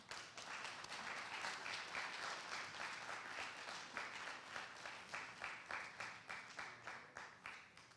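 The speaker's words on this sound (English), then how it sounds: "Clap him up to the stage, y'all." An audience at a Black Arts showcase claps to welcome a performer to the stage: a steady wash of many hands that settles into rhythmic, pulsing claps toward the end, heard from a distance at a modest level.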